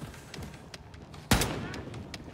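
A single loud, sharp sniper rifle shot from a scoped weapon in the shooter game Wolfenstein 2, cracking once and ringing out briefly over quieter in-game ambience and fainter pops.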